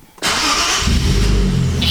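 A car engine cranks and fires up right after its ECU was flashed with EcuTek, then settles into a steady, close running idle that continues to the end.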